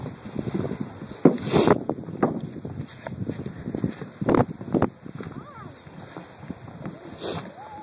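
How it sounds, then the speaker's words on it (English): Gusty wind buffets the microphone outdoors in Selawik, Alaska, in uneven rumbling bursts while people talk nearby. "It's just the wind"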